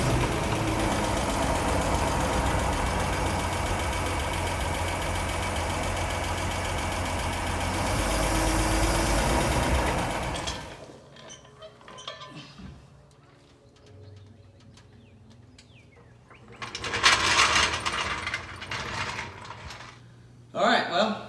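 Toyota Land Cruiser transfer case driven with no oil, a loud steady mechanical whine and grinding drone running continuously, then dropping away to quieter rattles and clunks before a short burst of noise returns.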